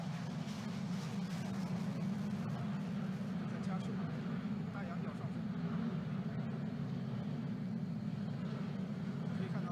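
A steady, broad roar from a J-10B fighter jet waiting to take off, heard from a distance at an air show, a constant low rumble that holds level throughout.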